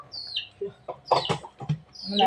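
A chicken clucks in short bursts, close by, with a few higher squawks mixed in and faint human voices briefly in the background.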